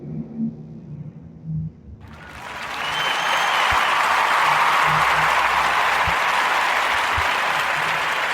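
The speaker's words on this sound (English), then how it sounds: "Warm Narrative podcast round of applause" Podcast audience applause, a dense wash of clapping that swells in after a brief spoken remark and then holds steady and loud for several seconds.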